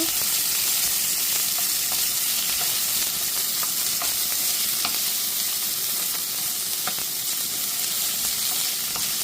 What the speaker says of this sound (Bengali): তারপর দিয়ে দিব পেঁয়াজ কুচি, একটু মরিচ দিয়ে কষিয়ে নেব।